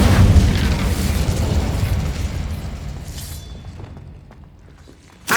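The Incendio fire spell being cast in Hogwarts Legacy, a loud booming whoosh of flame that gradually fades and decays over several seconds, then a short sharp burst at the end.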